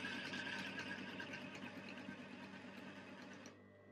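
A sewing machine stitches fabric bunting flags onto tape, its fast, even mechanical whirr running steadily up close, then cutting out abruptly near the end.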